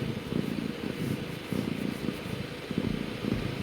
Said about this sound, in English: Ideal cat sounds